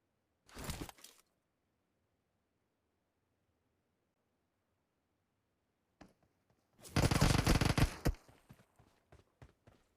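Gunfire in PUBG Mobile during a squad fight: two separate loud bursts of shots, a short one near the start and a longer dense volley later, followed by scattered lighter clicks, with near silence between.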